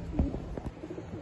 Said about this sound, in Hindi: गर्दान कबूतर हैं उड़ाने वाले